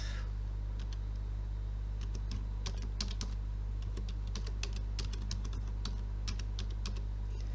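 Close, clear keypresses on a computer keyboard as text is entered into a spreadsheet cell, irregular bursts of clicks over a steady low hum, no voices.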